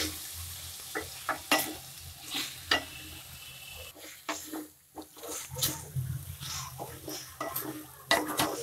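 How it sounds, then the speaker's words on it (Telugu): A spoon stirs brinjal tomato curry in a pan, with irregular scrapes and clinks against the metal over a soft steady sizzle of cooking, close and moderately loud. "ఈ విధంగా కలుపుకొని ఇంకొక 2 నిమిషాల పాటు దీన్ని ఈ విధంగా కలుపుతూ ఉడకబెట్టాలి"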